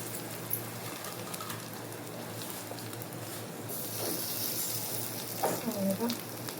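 Three fish pieces fry together in a single pan, giving a soft, steady, close sizzle with a few brief clinks and bubbling bursts toward the end.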